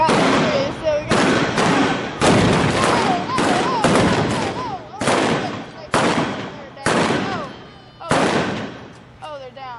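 Gunfire at a reenactment of the Dalton gang shootout in Coffeyville: loud, close blank shots crack in a rapid irregular string, about a dozen blasts with echoing tails. A crowd murmurs and people talk between the shots.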